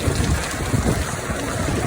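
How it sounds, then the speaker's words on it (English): Heavy rain falls in a city centre in Florianópolis, a dense, loud, even hiss with low rumbling wash and no voices. "Lots of rain."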